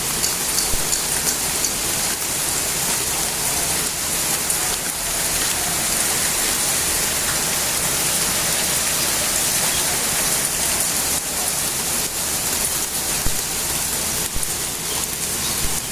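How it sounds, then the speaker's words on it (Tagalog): Heavy rain pours down on a garden of rain lilies in a dense, unbroken hiss, loud and close throughout, with no voices. "Ang lakas ng ulan."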